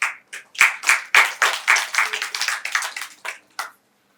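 Clapping from a small audience at an occult summit: a loose run of individual claps, uneven in rhythm and close, then fading out after a few seconds.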